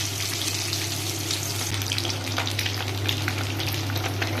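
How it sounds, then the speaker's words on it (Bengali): Eggs fry in hot oil in a wok, a continuous crackling sizzle with popping spatters over a steady low hum, close and fairly loud. "দেখেন, আমার ডিমগুলা প্রায় ভাজা হয়ে গেছে"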